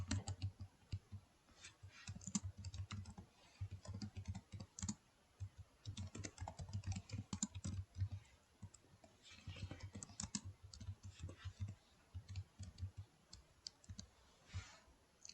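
Fingers type on a computer keyboard while a name is entered into a PHP registration form, giving quick bursts of close, soft key clicks with short pauses between words and no talking.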